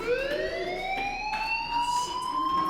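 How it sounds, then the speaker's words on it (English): A rising, wailing fire alarm sounds inside the video game Life Is Strange, a loud sweeping tone with bright harmonics climbing steadily in pitch. "Hey, do you hear that fire alarm?"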